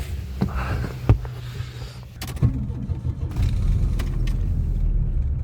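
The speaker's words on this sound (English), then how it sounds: "this engine runs super rough in the morning when it's cold" A cold Volvo car engine idles roughly in the morning, a low uneven rumble with several sharp knocks and clicks early on, then a steadier, louder running drone.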